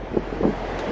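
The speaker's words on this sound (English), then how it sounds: "It's really windy, about 40, 50 miles an hour." Strong coastal wind on an island, gusting around 40 to 50 miles an hour, batters the microphone with a dense, rumbling roar and a few louder buffets over one second.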